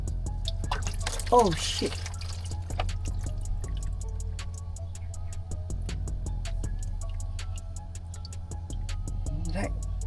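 Diesel dripping from the lower fuel filter of a 2022 Isuzu D-Max 1.9 Bluepower RZ4E during filter replacement, a steady run of small regular drips close by, under a low hum, with someone briefly speaking.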